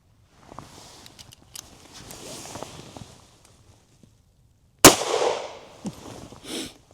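A single loud, sharp gunshot from a .380 ACP Bodyguard 2.0 pistol fired into ballistic gel cracks out after a few seconds of faint shuffling, then fades quickly.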